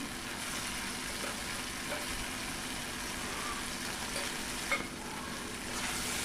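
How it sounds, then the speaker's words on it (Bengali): Fried potatoes are sautéed in spice masala for a Bengali potato and paneer dish, giving a soft continuous sizzle with low scraping as the pan contents are stirred, steady and fairly quiet throughout. "তো আলুটা দিয়ে ভালো করে কষিয়ে নিচ্ছি সব কিছু"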